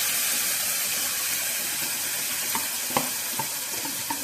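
A Gujarati tempering of cumin, asafoetida and turmeric with onion, tomato, ginger and chilli gravy sizzles steadily in a pan, with a constant loud hiss and a few soft clinks of stirring, and no voices.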